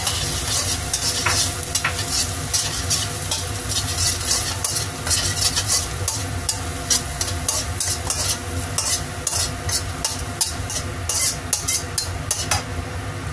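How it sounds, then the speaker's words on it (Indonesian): Steady crackling sizzle of garlic frying in a hot pan for a Hong Kong-style dish, close and continuous, with occasional scrapes of a utensil stirring. "Kita goreng bawang putihnya ya."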